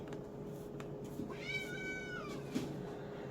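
A cat gives a single drawn-out meow at moderate distance, rising then falling over about a second, against steady household room noise with a faint hum and no talking.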